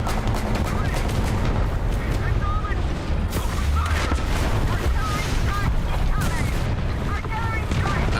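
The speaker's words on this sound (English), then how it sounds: "Artillery strike." Artillery strike in a combat video game: a dense, continuous barrage of booming explosions and gunfire, loud and rumbling throughout without a clear break.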